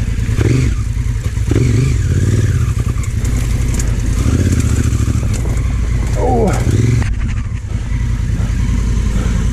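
A motorcycle engine runs loud and close with repeated throttle surges, heard through a helmet intercom; someone talks over the engine noise.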